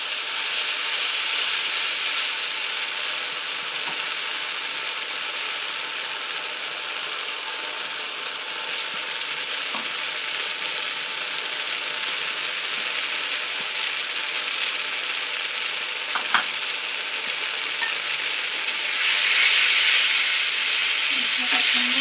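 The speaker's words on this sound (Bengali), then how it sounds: "পেস্টটা দিয়ে দেবো, দিয়ে ভালো করে এবার মশলাটাকে আমি কষিয়ে নেবো।" Ground spice paste frying in a pan while being stirred for a Bengali curry, a steady close sizzling hiss with occasional faint clicks of the spoon, brightening slightly near the end.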